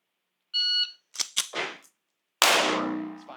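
Shot timer beep on a pistol range, a short loud electronic tone, then a few sharp bursts and a heavy ringing pistol shot decaying near and loud.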